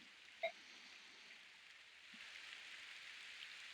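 Steady soft rain falls across a battlefield in the video game Fire Emblem: Path of Radiance, a continuous faint hiss that swells slightly in the second half, with one brief tap near the start and no talk.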